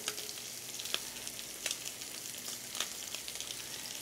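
Salted shrimp searing in a hot pan give a steady close sizzle, with a few brief crackling spikes scattered through.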